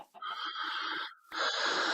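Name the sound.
chickens in the Minecraft video game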